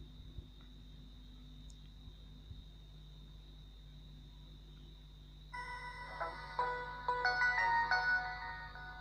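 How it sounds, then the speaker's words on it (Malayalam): A Samsung Metro SM-B350E feature phone, just flashed with Odin, plays its short bright startup melody partway through, after a long stretch of faint steady hiss with a thin high whine; the phone is fairly quiet and heard alone. "ഇവിടെ തന്നെ ഫോൺ ഓണായി വരും"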